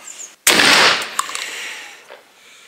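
A single loud, close shot from a Baikal MP155 shotgun firing a buffered lead-shot cartridge, a sharp blast that decays into a short echoing tail, followed by faint mechanical clicks.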